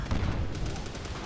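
Grenade explosions rumbling in Call of Duty: World at War combat on veteran difficulty, a dense cluster of low booms and crackling bursts over a short moment, fairly muted.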